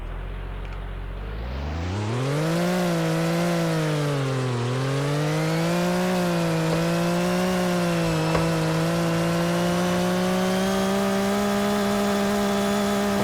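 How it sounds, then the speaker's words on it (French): A small wooden car's engine in the Roblox video game starts up and revs, rising quickly into a loud buzzing drone that dips, climbs again and then holds steady at a constant pitch. "Waouh, déjà le bruit au démarrage."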